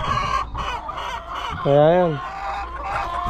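Chickens on a small backyard farm cluck close by, one drawn-out rising call standing out, all under a person speaking.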